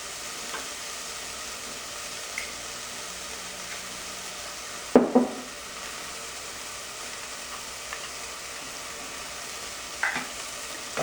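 A teaspoon of achiote frying in a pan for morocho soup and pork, stirred to keep it from burning; a steady soft sizzle runs throughout with a couple of scraping stir sounds and light clinks.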